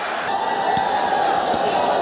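Cricket crowd at the 1996 Titan Cup semi-final between India and Australia cheering Mark Taylor's fifty, a steady, broad roar of voices that holds level throughout, with brief louder bursts rising above it.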